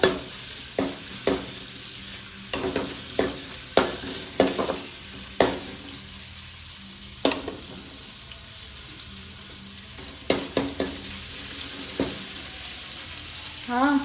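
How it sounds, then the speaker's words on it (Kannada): Small onions fry in coconut oil for a mushroom curry masala, a steady low sizzle punctuated by repeated sharp scrapes and taps of a spatula stirring the pan. "ಅದು ಸ್ವಲ್ಪ ಕೆಂಪು ಬಣ್ಣ ಬರುವವರೆಗೆ ಅದನ್ನು ಬೇಯಿಸಬೇಕು."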